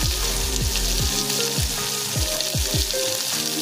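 A spoonful of Malvani masala sizzling in hot oil in a pan, with a steady close frying hiss and repeated scraping stirs as the spice is mixed in.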